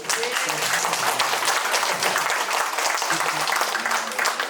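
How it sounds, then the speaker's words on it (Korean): A crowd at a book concert claps and applauds steadily for several seconds, a dense, even wash of hand claps with a few voices murmuring underneath. "박수 한번 쳐주십시오."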